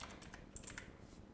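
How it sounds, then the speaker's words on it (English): Quick light taps on a computer keyboard, a brief burst of soft close-up keystrokes at low volume with no one talking. "I'm just going to type in LA, for instance"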